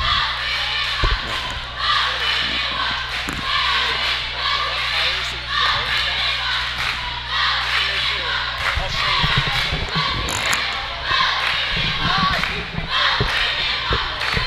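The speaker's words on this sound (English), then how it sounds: "Cheerleaders getting the crowd pumped up" Loud, steady crowd roar and cheering fills a high school gym during the second half of a Nowata Ironmen at Chelsea basketball game, with scattered thumps of a bouncing ball and shouts throughout.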